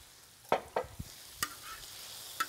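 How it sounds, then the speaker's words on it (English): Peach mango preserves and wine sauce warm over low heat while being stirred: a quiet background with a few distinct utensil clicks and taps against the pan, spaced irregularly. "we're going to go ahead and let that mix up, and we're going to heat it up together real nice"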